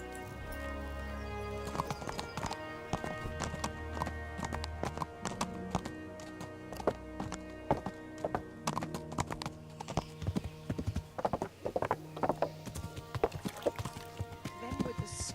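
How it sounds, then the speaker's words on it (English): Horse hooves clip-clop steadily in the medieval role-playing game Kingdom Come, a continuous walking rhythm running throughout beneath other game sounds and tonal background layers. "这是我的马吗？"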